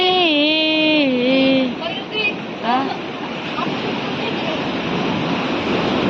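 Sea waves wash onto a beach beside the Harihareshwar temple as a steady broadband roar; a voice briefly sings over the surf at the start, then the waves continue alone.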